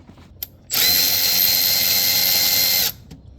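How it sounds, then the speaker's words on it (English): A power drill or driver runs steadily for about two seconds, loud and close, while loosening a hose clamp on the air intake of a 2015-2017 Ford F-150 5.0L, with a brief tool click just before it starts. "we're going to take the hose clamp off down here"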